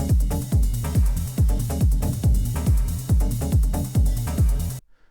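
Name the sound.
groovy driving ride cymbal sample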